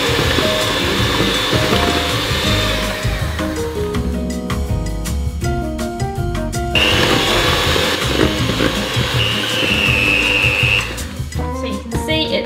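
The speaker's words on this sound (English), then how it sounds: "we're going to go ahead and blend that up" Blender whirring through strawberry puree for a white chocolate and strawberry biscuit recipe, a steady loud motor drone that shifts pitch as the load changes, with brief pulses and pauses in the middle, no talking.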